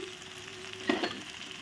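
Spice masala with salt sizzles in a pan for banana flower kofta curry. A steady close frying hiss is broken by one quick stir-scrape midway, and no one talks.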